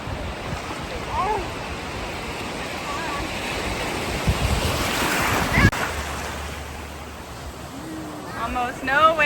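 Soft surf and wind wash steadily along a calm Florida beach shoreline, with gentle swells rising and falling and a few faint voices in the background.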